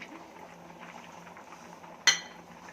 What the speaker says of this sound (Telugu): ఇప్పుడు కట్ చేసుకున్న టమాటా ముక్కలు వేసి